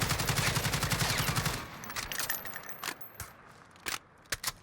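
An AUG firing 5.56 rounds in Call of Duty Warzone lets off a fast, steady automatic burst for about a second and a half, followed by a few scattered single shots and clinks at lower volume.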